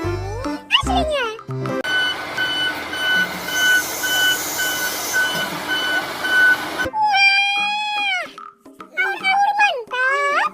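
A toy tow truck gives a steady electronic reversing beep pattern for about five seconds, with a child-like voice talking before and after it.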